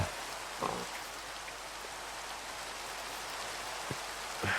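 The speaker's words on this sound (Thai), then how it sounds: "โอ้ฝนตก" Steady rain in the video game Minecraft hisses as an even, soft wash of noise, with a few faint clicks and taps over it.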